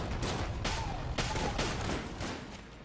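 A rapid burst of video game gunfire from Enter the Gungeon fills the clip, several sharp shots in quick succession over a steady noisy background, fading slightly toward the end.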